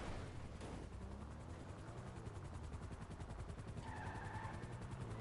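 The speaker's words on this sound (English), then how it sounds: "I'm going to have to listen for the sound of the helicopter." A video game helicopter, heard as a steady rhythmic rotor chop with a low rumble underneath, fairly loud and continuous and alone, with a brief higher tone appearing near the end.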